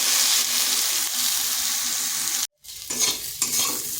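Okra fries on medium heat for an egg and okra dish, a steady hiss of oil with scraping stirs that briefly cuts to silence before the sizzle resumes with clattering strokes, with no talking.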